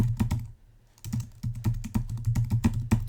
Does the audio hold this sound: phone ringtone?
no